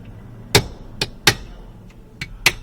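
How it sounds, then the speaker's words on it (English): A hammer strikes a chisel to free a breakaway bolt on the ignition key cylinder of a VW T4 Eurovan, giving five sharp metallic blows at an uneven pace, close and loud, with no talk. "So this one you just use a chisel to break it free."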